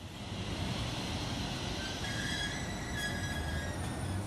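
Biotren commuter train at Juan Pablo II station in San Pedro de la Paz, Chile, a steady rumbling roll with high, thin wheel squeals rising over it, fairly close and continuous, no talk.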